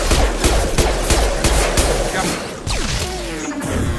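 Rapid automatic gunfire rattles through a Mass Effect Legendary Edition firefight, dense repeated shots up close, with a brief crash and a lull before firing resumes, and voices mixed into the fray.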